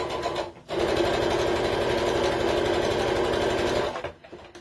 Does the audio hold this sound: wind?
no